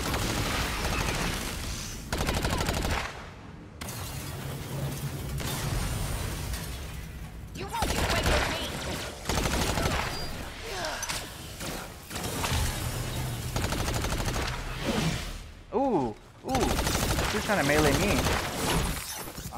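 Gunfire and explosive blasts from the Agents of Mayhem video game, dense bursts of shots and shattering booms repeating throughout, loud and close, with someone talking over much of the action.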